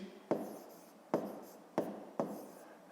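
Pen or marker strokes writing out the working of a fifth-grade maths exercise, four short scratchy bursts spaced about a second apart, close and quiet with no talking.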